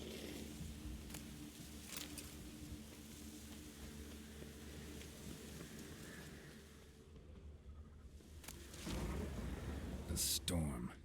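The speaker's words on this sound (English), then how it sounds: "Of course there's a storm." Rain hissing steadily through a thunderstorm in The Witcher 3: Wild Hunt, with low rumbles and a heavier surge near the end, faint and partly under a player's speech.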